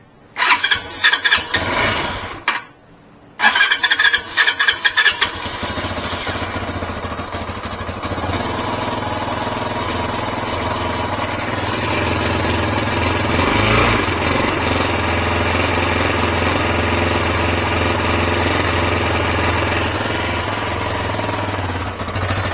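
A 2022 Peacesports Brozz Recon 250 dual-sport enduro motorcycle, 229 cc, cranks with a few choppy bursts, catches, then settles into a steady, loud, close idle that runs on evenly.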